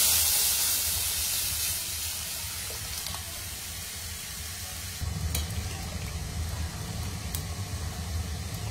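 A thin gram flour batter mixture simmering in a pan, a continuous soft hiss and bubbling with steam, steady and close, with a slightly fuller rumble in the later half and a couple of faint clicks.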